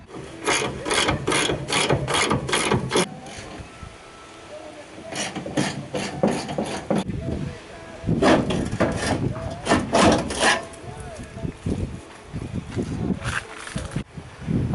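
Loosening the front bumper bolts on a VW Kombi: loud bursts of ratcheting and scraping metal-on-metal work in close repeated runs, with pauses between the bursts.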